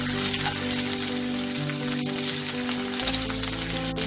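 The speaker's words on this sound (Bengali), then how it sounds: "তাই এই দুটোকে আমি এখানে হালকা ভেজে নেব" Radish and potato pieces lightly frying in oil in a pan for a cauliflower-stem chorchori give a steady, close, continuous sizzle for the whole stretch, over a faint low hum, with no talking.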